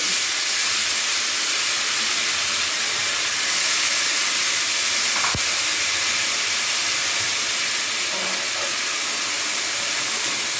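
Fresh spinach greens dropped into a hot pan give a steady, loud broadband sizzle and hiss that holds evenly throughout, with one sharp brief click partway through and no voices.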